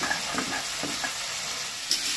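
Tomatoes frying in a pan with a constant close sizzle and a few faint soft stirring taps, unbroken by any speech.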